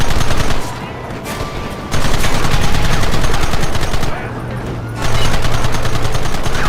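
Sustained gunfire from the Red Dead Redemption video game, dense and continuous with a steady rapid rhythm, loud and close, briefly dipping twice before resuming.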